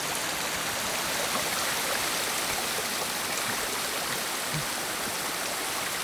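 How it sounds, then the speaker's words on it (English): Rushing stream water in the Ghost of Tsushima video game, a steady, loud broadband wash that continues unbroken for the whole stretch with no voices over it. "that water sound, it's so overpowering compared to other"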